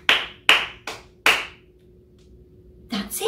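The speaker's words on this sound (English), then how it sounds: "You're right, I'm clapping." A teacher claps hands in a classroom, four crisp, evenly spaced claps close by, then a pause before a voice briefly starts.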